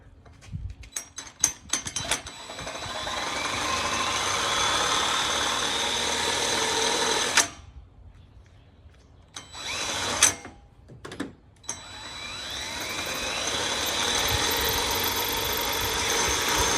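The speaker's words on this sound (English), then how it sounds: "That's got to be the world's dullest drill bit. But it's going." A power drill with a dull bit bores during a snorkel install on a Toyota FJ Cruiser, its motor whining steadily in long runs that briefly stop and restart with short bursts between.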